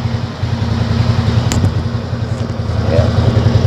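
Suzuki Skywave 125 scooter idling steadily up close, a low even engine hum with a regular pulsing beat and a brief higher click near the middle.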